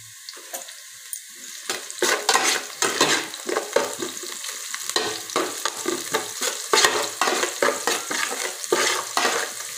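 Onions frying in a pan with half a spoon of salt for mushroom gravy, a close crackling sizzle punctuated by frequent rhythmic stirring scrapes, growing busier after the first couple of seconds, no talk.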